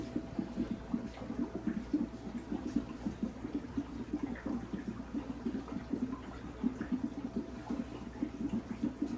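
Water poured from a gallon container into a fish tank, a steady low splashing gurgle that runs continuously and fairly quietly with no talking.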